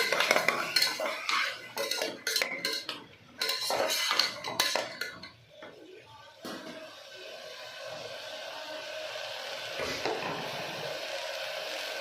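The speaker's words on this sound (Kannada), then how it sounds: "ಎರಡು ನಿಮಿಷ ಚೆನ್ನಾಗಿ ಫ್ರೈ ಮಾಡಿ" A spatula stirs and fries avarekayi sambar ingredients in a pan, giving repeated metal scrapes and clinks in an irregular rhythm up close, then a steadier sizzle-like hiss for the rest.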